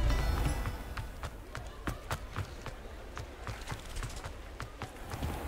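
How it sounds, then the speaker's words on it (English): Horse hooves clip-clop on the ground in the Hogwarts Legacy video game, a quick, regular run of sharp, crisp taps lasting several seconds at moderate level. "Is there a horse?"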